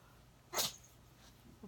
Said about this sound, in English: Did you guys hear my kitty cat sneeze?